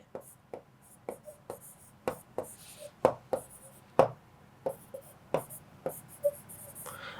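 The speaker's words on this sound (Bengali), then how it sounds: "লিখে দিচ্ছি আমি" Pen or chalk tapping and writing strokes during a Bengali history class lesson, a series of sharp irregular taps at close range with quiet talk faint beneath.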